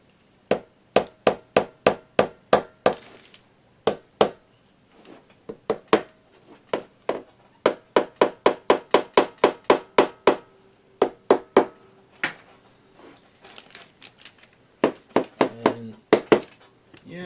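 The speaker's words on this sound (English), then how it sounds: "you don't usually think of a hammer as a porcelain repair tool, but it works." A mallet taps a porcelain tortoise figurine to seat a broken piece back into place, with dozens of sharp, fast knocks in quick bursts and brief pauses between them.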